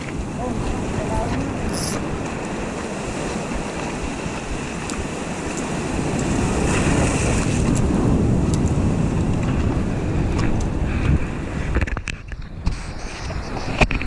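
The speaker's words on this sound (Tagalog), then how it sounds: "Malakas na yung alon dito." Strong waves at high tide slosh and rumble around a riding boat at Agno, Pangasinan, with heavy wind buffeting the microphone, swelling louder midway, as voices talk faintly underneath.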